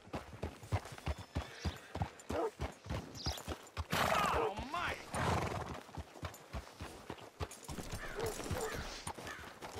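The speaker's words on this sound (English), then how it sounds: "Hitch your horse up here." Horse hooves clip-clop in a steady rhythm in Red Dead Redemption 2, with a whinny breaking out around the middle, close and fairly loud while a voice briefly speaks over the game sounds.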